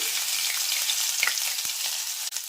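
Ginger-chili paste sizzles in hot oil for potato poha, a steady close crackle and hiss with a few small pops throughout and no talking.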